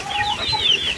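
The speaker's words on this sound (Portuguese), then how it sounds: "Os pintinhos, ó." Chicks on a farm peep in high, thin calls while hens cluck nearby. The calls overlap close by for about a second over faint outdoor background.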